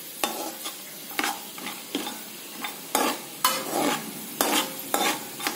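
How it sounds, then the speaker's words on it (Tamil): Chana dal being tempered in a hot pan sizzles softly while a spoon stirs and scrapes in quick irregular strokes, close up and without any talking. "இந்த கடலைப்பருப்பு போட்டு தாளிச்சுக்கலாம்."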